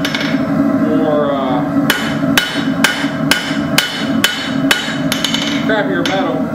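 Hammer blows forging metal at a dark, low heat, about nine sharp strikes spaced irregularly over a steady background hum, close and loud.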